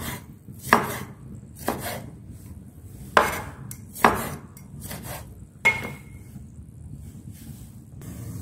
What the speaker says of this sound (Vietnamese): Cà chua các bạn thái cay nhé.